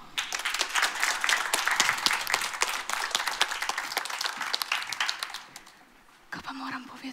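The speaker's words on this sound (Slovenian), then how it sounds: "Dajmo en aplavz" Audience applause at a school musical, greeting a young singer about to perform her own song; dense, sustained clapping for about six seconds, then it fades out and a voice speaks briefly at the end.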